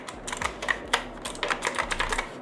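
Rapid, uneven clacking keystrokes on a Verity Unifire 96 mechanical gaming keyboard with a hot-swappable polycarbonate build, close and crisp, with no talking.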